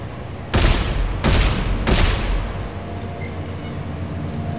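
Weapons fire in Dead Space 3 comes as three loud, heavy bursts in quick succession, each roughly half a second long, followed by a lingering low rumble under a quieter ambient background.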